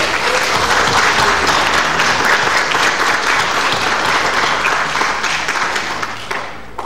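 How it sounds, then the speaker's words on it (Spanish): Audience applause fills a lecture hall at a conference given by the dean of the IPN, a dense, loud, steady wash of clapping from many people that holds for several seconds before easing off near the end. "Un aplauso para ellos, por favor."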